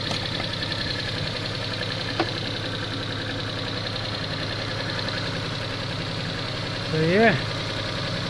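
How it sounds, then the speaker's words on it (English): The 0.8-litre engine of a Chevrolet Matiz idles steadily nearby after a timing belt replacement, with a loose rattling over the running, and a person speaks briefly toward the end. "There's some rattling, I've still got to tighten things up."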